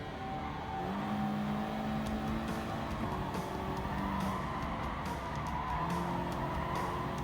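Tires squeal and skid over a continuous engine drone from a racing car in Gran Turismo Sport, the screech steady and loud with no voices.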